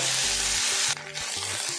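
Onion with ginger-garlic paste sizzles hard in a pan, a bright continuous hiss with low scraping stirs of a spatula, close and loud without any talk.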